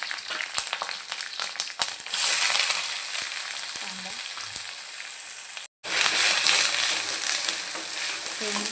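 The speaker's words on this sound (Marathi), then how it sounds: "तेल छान गरम झालं की त्यामध्ये आपण मोहरी टाकूया ते मिरच्या सोबतच लाल मिरच्या" Mustard seeds with green and red chillies hit hot oil and crackle and pop sharply at first, then settle into a loud, steady, close sizzle with a brief break.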